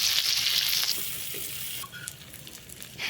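Chopped onion and green chili fry in hot oil for a Bengali fish curry, a steady hiss of sizzling that fades slightly, with a few soft clinks of a spatula toward the end.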